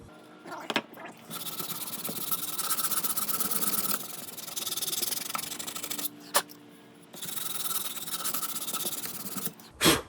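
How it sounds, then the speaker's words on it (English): Sandpaper works over a wood piece for a grand trophy build in long, steady abrasive passes, three main stretches of close rasping broken by short pauses and a few knocks. "I'll come back on it with some sandpaper. Just want to get the bulk of this off."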